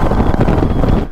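Wind rushing past while riding a Bajaj Pulsar motorcycle (F250/N250), a brief, loud, low buffeting roar against the microphone with no engine clearly distinct.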